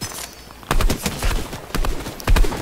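Gunfire in Fortnite crackles in several sharp bursts, close and fairly loud, with brief gaps between volleys.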